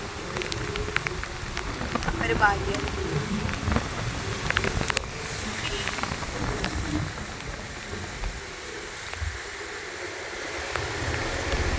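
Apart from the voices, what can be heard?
heavy rain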